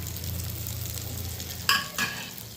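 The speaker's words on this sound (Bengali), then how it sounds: "এগুলো ডিপ ফ্রাই করতে হবে।" Soybean koftas deep-fry in hot oil in a small batch, a steady close sizzle that continues throughout, broken near the end by two sharp clinking stirs.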